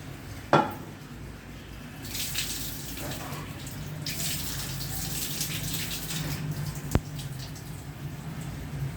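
Toor dal rinsed under running water in a steel vessel, a faint steady splash and trickle with occasional metallic clinks and one sharp knock, heard alone without talk.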